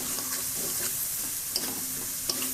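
Chicken sautés in a pan with mixed garlic spice and salt, a loud, continuous sizzle broken by scraping stirring strokes and a couple of sharp spatula knocks.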